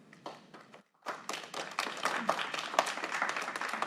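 An audience at a council meeting claps, a few scattered taps first, then after a brief pause a fuller round of applause builds and keeps going, moderately distant in a hall.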